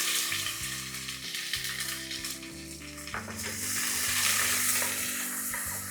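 Whole spices and onions fry in a biryani pot: bay leaf, black cardamom, cloves, star anise, mace, shahi jeera and stone flower sizzle loudly and steadily, with a stirring scrape partway through and no talking.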